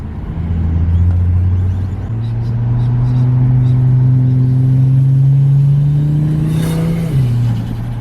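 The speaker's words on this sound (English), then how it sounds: "It does have that really cool high pitched sort of sound." A Ford Falcon XR6 with a big turbo upgrade revs loudly and close by, its steady drone climbing in pitch with a high whistling turbo whine, then dropping back near the end; no talk is heard.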